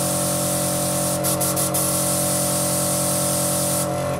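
Spray can hissing in a steady, loud continuous spray, with a few short breaks in the middle and one near the end, heard alone without talk.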